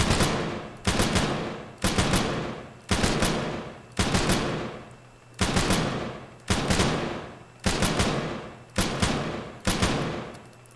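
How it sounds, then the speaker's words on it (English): Auto rifle suppressive fire in a video game: about nine evenly spaced, loud bursts of rapid shots, each cutting off sharply before the next, with no talking over them. "This is the auto rifle, so of course it's not going to fire like infinitely."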